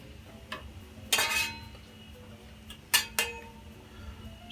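Mushrooms and onions tumble into a hot cooking pan, giving a few short bursts of clatter and sizzle with soft utensil clinks against a quiet kitchen background.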